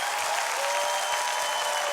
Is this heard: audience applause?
yes